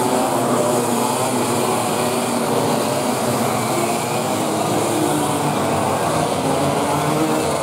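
Karts racing on a track make a steady, loud, droning engine whine that holds unbroken throughout, with no talking.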